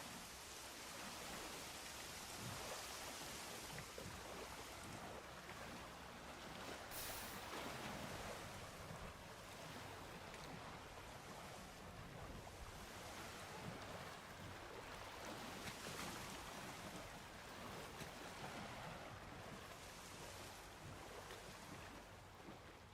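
Steady rain falls outdoors as a continuous, even hiss that stays soft and unbroken, with no voices over it.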